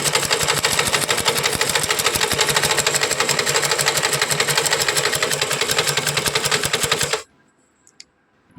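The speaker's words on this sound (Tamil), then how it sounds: "ஸோ இது தையல் போட்டுட்டு காமிக்கிறேன் பாருங்கள்." A tailoring sewing machine stitches fabric in a fast, steady, close mechanical clatter that runs for several seconds, then stops abruptly, leaving near silence.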